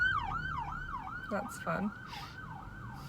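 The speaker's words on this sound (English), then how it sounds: "oh, there goes an ambulance" An ambulance siren passes along a street in Seattle's U District, wailing up and down in a regular rhythm at a moderate distance, with a brief voice speaking partway through.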